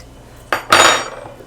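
A big metal spoon scrapes and scoops in a lasagna pan, giving two short clattering strokes close up, the second louder and longer, with no talk.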